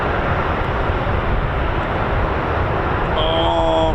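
Military transport aircraft, a flight of four such as KC-135, C-146 or MC-130J types, depart from an RAF base with a broad, steady engine roar that holds loud throughout, and a high whine rises near the end.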